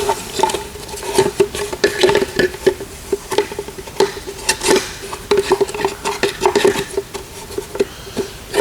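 Close, irregular clicks and small scraping noises as three screws are driven by hand into a plastic retro mirror mount on a Ford Mustang S197, with no talking.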